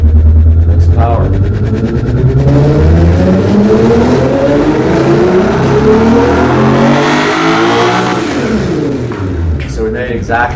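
An engine revs hard on a dyno during an automatic power test, a loud sustained roar climbing steadily in pitch for several seconds before easing off, close by.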